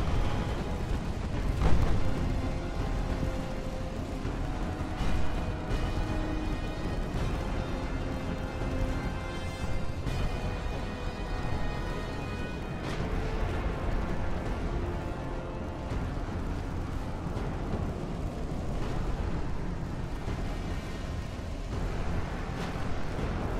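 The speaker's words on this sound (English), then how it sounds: "So it looks like shells were coming in that direction." Naval shells fire during a fleet battle in the Ultimate Admiral Dreadnoughts warship game. Deep booms and blasts roll through a constant low rumble of battle noise, with a sharp loud report near the start and further distant thuds throughout.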